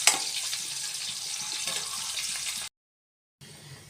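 Boiled eggs frying in hot oil give a soft, steady sizzle and crackle that cuts out abruptly near the end and then returns more faintly, with no voices.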